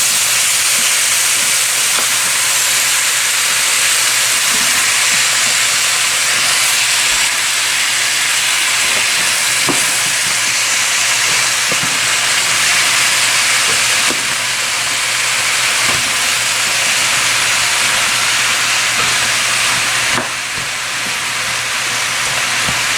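Pumpkin pieces sizzle in a hot pan with other seasonings, a steady, loud broadband hiss of frying that runs unbroken and close, with a few faint clicks and stirring taps beneath it and no talking.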